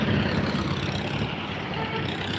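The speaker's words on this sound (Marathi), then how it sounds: "ट्रॉफिक आहे गाड्या बघा किती येतात" Road traffic rushes past with a continuous broadband roar of vehicles, close and steady, with some talking mixed in.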